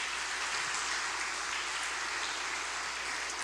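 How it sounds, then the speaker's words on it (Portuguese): A church congregation claps for Jesus during a Portuguese-language evening sermon, producing a thick, sustained roar of applause that stays loud and uniform throughout, with no speech on top. "Você pode aplaudir a Jesus nessa noite?"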